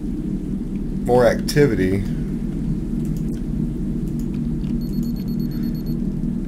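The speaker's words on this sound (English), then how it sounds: "Let's go on the roof and watch the rain" Rain and rumbling thunder in the video game Signal Simulator, a steady low roar of rainfall with deep rolling rumble throughout, while a voice speaks briefly near the start.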